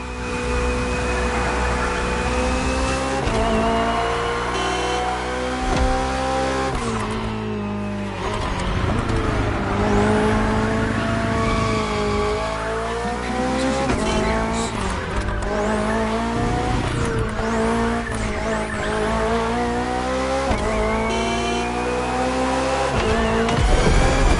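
BMW Hybrid V8 race car in The Crew Motorfest, its engine droning loud and steady with shifting pitch through a short race, with brief tire squeal, continuous and close throughout.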